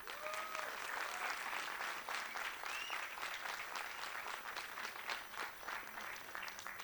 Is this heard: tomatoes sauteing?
no